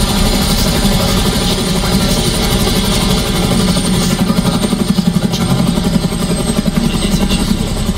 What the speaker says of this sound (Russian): Вертолет, не высовывайте.